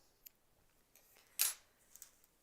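A single crisp snip of small scissors trimming excess tatting thread, close and quiet, with a few faint clicks and taps around it.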